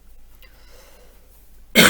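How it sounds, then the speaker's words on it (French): A single sharp cough bursts out near the end after a stretch of near silence, loud and close. "excusez-moi, j'ai de la toux,"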